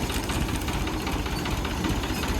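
Tractor engine running steadily at close range, a dense low rumble with a rapid knocking pulse that holds unchanged throughout, with no voices.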